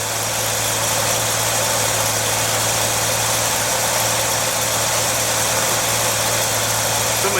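A 1968 Chevy C10 pickup engine idling steadily, a continuous loud rumble with constant hum and no change in pace, close by, with no voices.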